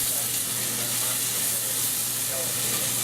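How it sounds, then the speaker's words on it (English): Pre-cooked onions sizzle in a hot frying pan with a steady, dense hiss and faint crackle, constant and close throughout. "Let's get our onions in the pan,"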